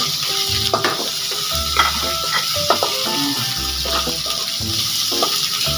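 Onions and ginger sizzle steadily in a hot pan, with a spatula stirring and scraping throughout, loud and close while a chicken feet adobo is being started.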